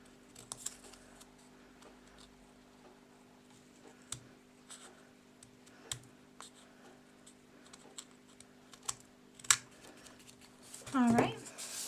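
Scissors trim excess paper off the edge of a handmade card in a quiet room, making a few sparse, soft snips and small taps. A brief squeaky rustle comes near the end.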